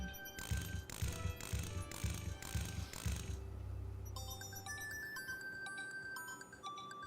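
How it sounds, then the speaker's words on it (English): A mechanical nightingale toy being wound in King's Quest VI, a series of rhythmic clicking ratchet turns, followed by a tinny chiming tune. "Alexander winds the mechanical nightingale and places it on the ground."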